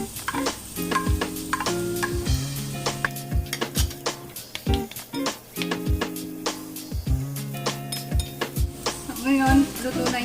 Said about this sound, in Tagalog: igigisa natin yung ating bawang. Then yung sibuyas.